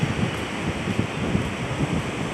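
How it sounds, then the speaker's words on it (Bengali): Surf at Digha Mohana sea beach rolls in a steady, broad wash of noise with wind buffeting the microphone. "দীঘা মোহনা সমুদ্র সৈকত।"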